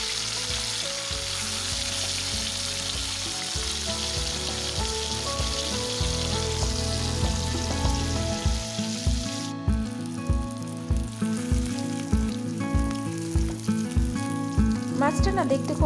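Pieces of local catla fish frying in oil, some with belly cuts: a loud, continuous crackling sizzle that runs throughout, joined in the second half by a rhythmic, tonal background pulse.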